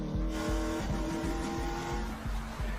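Toyota AE86 and Mitsubishi Evo racing through corners in a film, loud engines whining at high revs with a rhythmic series of pulsing bursts as the cars power through the bends.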